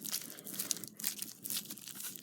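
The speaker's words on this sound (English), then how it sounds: "There's a long piece of foil. And crumple it up, just like we did before," A long piece of aluminum foil is crumpled up by hand, giving close, crisp crinkling and crackling in irregular bursts for a couple of seconds.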